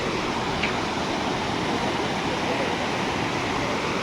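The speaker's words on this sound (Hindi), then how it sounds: "ये है गगास नदी, बहुत ही तेज़ बहाव में भी बह रही है मेरे नीचे" The Gagas river, swollen by monsoon rains, rushing fast beneath a bridge: a steady, loud, unbroken roar of churning water with no pauses.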